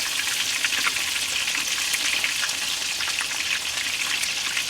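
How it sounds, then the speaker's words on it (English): Scotch eggs fry in oil over a campfire in a forest at night, a continuous crackly sizzle with scattered pops, steady and moderately close, with no talk. "while we were waiting for our Scotch eggs to finish frying"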